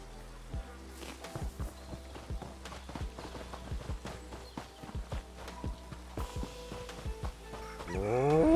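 Cattle in Elder Scrolls Online plod with a steady series of hollow hoof clops, and a drawn-out low moo rises at the very end over faint background tones.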